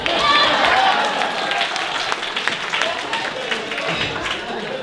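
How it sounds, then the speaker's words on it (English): Wedding reception audience applauding after a speech, a dense, steady wash of many hands clapping at close to moderate distance, sustained throughout with some crowd noise. "Give yourselves a round of applause"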